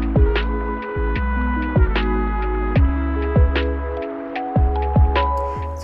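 A sewing machine stitches along the straps of a cross-detail crop top, its motor humming steadily while a regular clicking pulse runs through it, close and loud, with no speech.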